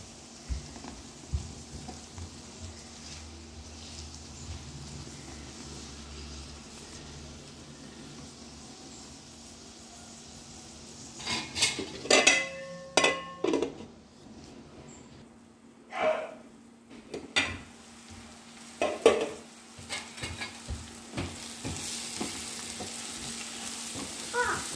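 Egg curry sizzles faintly in a frying pan while a spoon stirs it, giving a low background fry that breaks into a few louder scraping bursts partway through.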